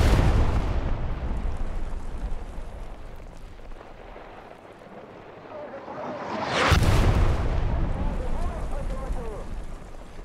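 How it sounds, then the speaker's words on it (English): During an Omaha beach battle in the World War II shooter Hell Let Loose, a bombing run hits. A dense rumble fades, then a loud deep blast swells up, with voices talking underneath. "Bombing run is inbound."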